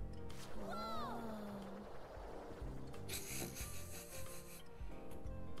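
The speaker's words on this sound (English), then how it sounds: "you spin the wheels and you rub a stick against it and it makes a noise" In the video game Persona 5: Dancing in Starlight, a stick rubs against a spinning wheel, giving a raspy, scraping grind that swells and fades over several seconds, mixed with sliding vocal-like tones.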